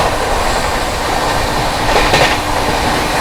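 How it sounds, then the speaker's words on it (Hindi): Mangala Lakshadweep Express, running Hazrat Nizamuddin to Ernakulam, rumbles past at close range with a steady loud roar of wheels and rail noise throughout, a brief rise of clatter midway. "overtaking Hazrat Nizamuddin Ernakulam Mangala Lakshadweep express"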